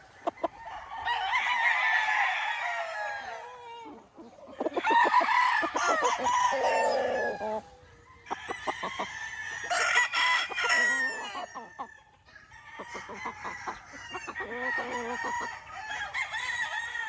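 Boston Roundhead cross Kelso gamefowl roosters crow in a farm pen, with four long, loud crows in sequence, each a few seconds apart, and some clucking and faint background sounds between them.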